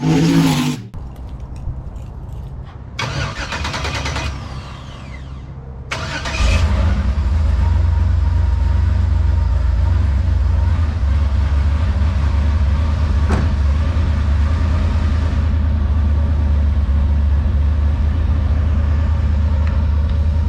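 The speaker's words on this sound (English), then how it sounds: "we'll crank this thing over and you can see what it sounds like with exhaust" A starter cranks in short bursts before an engine fitted with exhaust catches on a cold start and settles into a loud, steady, rumbling idle.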